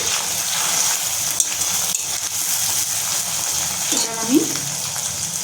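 Garlic and ginger cook in a covered pan, giving a steady low frying hiss with a brief soft clatter near the end, and no voices.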